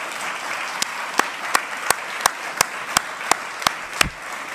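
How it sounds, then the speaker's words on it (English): Sustained audience applause honoring award recipients at a formal ceremony, a steady wash of many hands clapping with sharp periodic accents from a nearby clapper throughout. "One more round of applause for our honorees."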